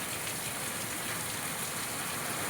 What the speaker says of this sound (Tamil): பாருங்க, எவ்வளோ மழைன்னு.